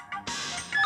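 A telephone ringing during a conversation in a Hindi film scene, an electronic ringtone that jumps up loudly after a short lead-in and keeps going steadily, close and clear with no talk over it.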